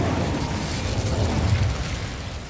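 Incendio fire spell cast in Hogwarts Legacy, giving a continuous loud whooshing roar of flame with rumbling low body that holds steady throughout, no talking present.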